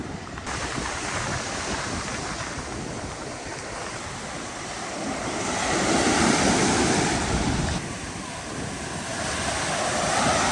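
Steady ocean surf rolls onto a Cancun beach with a gentle flat slope, a continuous wash of breaking waves swelling louder midway, mixed with wind buffeting the microphone.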